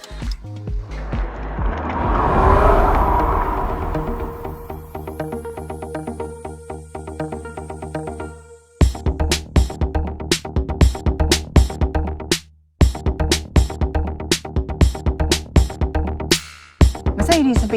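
A 2023 Mercedes-Benz EQE electric saloon drives along, first with a smooth rising whir and road noise, then a run of sharp, regular knocking thumps broken by short silences, loud and close with no talk.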